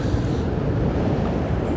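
Strong wind buffets the microphone on the English coast path between Margate and Swalecliffe, a loud, continuous low roar with no voices.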